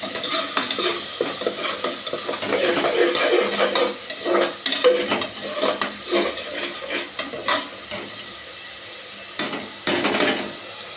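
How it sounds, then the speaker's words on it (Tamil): Ground onion paste is stirred in a frying pan for onion pulao, with a steady sizzle under repeated scraping strokes of a spoon that come close and loud across the whole stretch, with no talking. "அரைச்சி வச்ச வெங்காயம் இதை நல்லா கிண்டிக்கலாம்"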